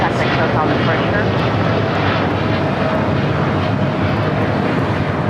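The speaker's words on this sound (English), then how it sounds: "27 taking off to Tokyo Haneda on a 787-8 Dreamliner" American Airlines Boeing 787-8 Dreamliner taking off from LAX bound for Tokyo Haneda, a loud dense continuous engine roar close by, steady throughout, with a voice speaking over it.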